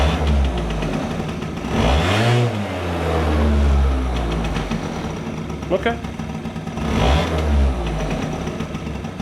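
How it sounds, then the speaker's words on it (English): A scooter engine, its carburetor freshly rebuilt and previously running shaky, revs up sharply twice and falls back to a steady idle in between, loud and close, with a brief spoken word over it. "Let's see how it revs up."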